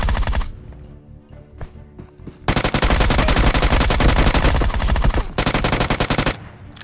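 Automatic gunfire in PUBG, loud and continuous: sustained rapid bursts of shots with a short lull near the start, then dense overlapping fire that ends in a run of separate sharp cracks.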